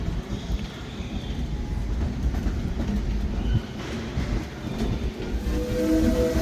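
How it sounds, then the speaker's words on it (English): Disneyland's train rolls along the rails at night, a steady close rumble with rhythmic clickety-clack of wheels over joints and a faint squeal of wheels toward the end. "please remain seated until the train comes to a complete stop"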